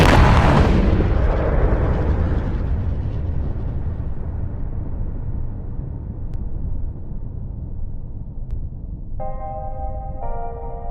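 Space Shuttle Challenger exploding at about 46,000 feet, 73 seconds after liftoff: a loud, sustained broadband roar and rumble that starts strongest and slowly thins out, with a faint electronic tone near the end.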